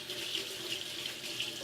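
Hands rinsed under a running kitchen tap while preparing a chicken bacon avocado wrap; a steady, close splash of water flows without a break and no one speaks.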